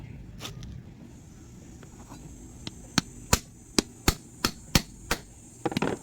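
A hammer strikes a part into a Tmx Supremo motorcycle engine during a top overhaul, a few light taps followed by about eight sharp, evenly spaced metallic blows close up, ending in a quick cluster of hits.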